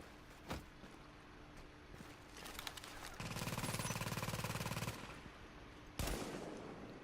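Shots are fired at an enemy in The Division: a few isolated sharp cracks, then a sustained rapid automatic burst of about two seconds, and a final loud shot, with faint talk underneath.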